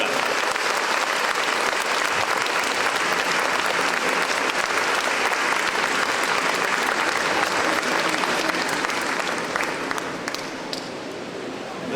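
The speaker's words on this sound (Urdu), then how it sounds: "بھرپور تالیاں ہونی چاہیے خواتین و حضرات." Loud, sustained applause from a large crowd at a university orientation ceremony at UET Lahore fills the whole stretch, tapering slightly near the end.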